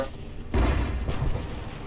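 A tank cannon in the Arma 3 video game fires a high-explosive round, sending out a single heavy, deep boom that rumbles on and slowly fades.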